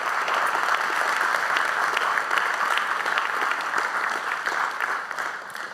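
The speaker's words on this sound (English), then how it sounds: "you can clap to that" A church congregation claps throughout, dense and steady applause filling the room, close and fairly loud, gradually thinning toward the end with no speech over it.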